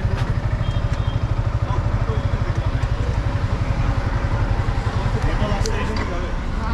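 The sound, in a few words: motorcycle engine as learner slowly releases clutch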